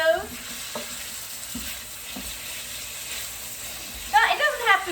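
Seasoned chicken pieces fry in a pan with a low, steady sizzle, punctuated by a few utensil stirs and scrapes, and a brighter clatter of stirring toward the end.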